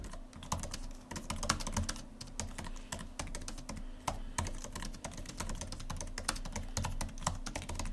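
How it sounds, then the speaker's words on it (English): Rapid, steady clicking of 2020 MacBook Air keys being typed on, close and fairly quiet, with an uneven rhythm of keystrokes throughout. "Here's a quick type test for you keyboard guys out there."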